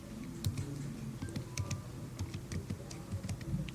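A firm's name is being typed on a computer keyboard, with soft, irregular key clicks running continuously over a low background hum.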